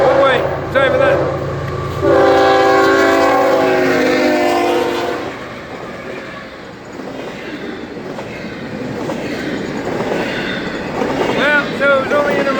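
An intermodal freight train, carrying new Amazon trailers, rolls past at Magnolia. Its horn sounds loudly for a few seconds before a steady rumble and clatter of wagons continues close by, with some talk over it.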